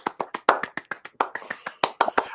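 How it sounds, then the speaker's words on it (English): A single pair of hands claps a quick, slightly uneven round of about sixteen sharp claps, close and dry, with no talk. "we need to give you a round of applause"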